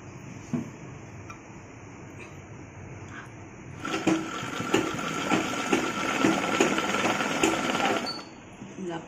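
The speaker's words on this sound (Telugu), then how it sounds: "పట్టిని మొత్తం చుట్టూరంగా కుట్టుకోవాలి" After a few quiet seconds, a sewing machine whirs in a steady run of rapid stitching around the waistband of a Punjabi chudidar pant, and a voice talks over it.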